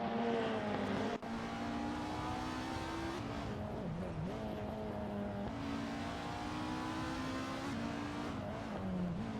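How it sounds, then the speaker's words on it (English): Racing cars in a BTCC Speedway video game rev and accelerate with rising and falling engine whines, shifting pitch through gear changes, loud and continuous, with a sharp click near the start. "watch these R-driven racing cars in action"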